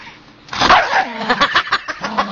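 A dog's rapid yips and barks burst in close and loud after a quiet start, a quick run of sharp, uneven yelps mixed with whimpering, alone without talk.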